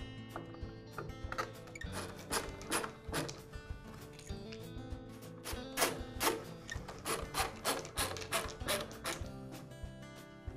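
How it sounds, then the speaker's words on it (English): The upper half of a DeWALT circular saw handle is fitted back into place by hand, giving a quiet run of sharp plastic clicks, taps and scraping rubs at close range. "Now I'll go ahead and reinstall the upper half of the handle."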